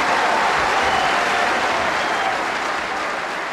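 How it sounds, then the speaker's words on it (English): Capacity crowd at a snooker world final in full applause and cheering, a dense, loud, sustained roar of clapping that barely fades across the whole stretch. "the capacity crowd go completely mad"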